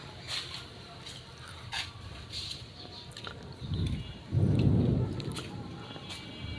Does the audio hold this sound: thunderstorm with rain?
yes